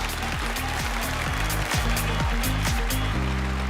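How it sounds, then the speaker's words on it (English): Applause from a pageant audience at a beauty-pageant finale, a dense steady clapping wash running throughout beneath loud, thumping stage music. "let's give our ladies a huge round of applause"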